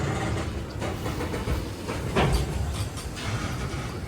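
A fast-moving train between Secunderabad and Vijayawada gives a steady rumbling roar with faint wheel clatter, loudest around the middle, heard from inside with no talking.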